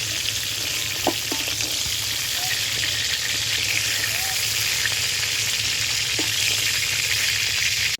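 Pointed gourd pieces frying in oil, a steady broad sizzle that holds at even loudness throughout, with a few faint clinks of a utensil now and then.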